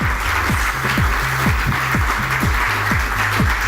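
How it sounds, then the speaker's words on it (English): An evening event audience at the Hitman Show in Singapore claps steadily and loudly, a dense wash of applause over a repeating low thumping beat for the whole stretch. "Big round of applause, folks."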